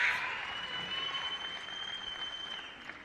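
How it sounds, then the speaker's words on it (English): Audience applause at a karate kata event, Karate1 Rabat 2018, heard as a steady, fairly loud wash of clapping that carries evenly through the moment of a jumping front kick, with a faint high tone running underneath. "You hear the audience clapping as they try to help create the timing for the jump."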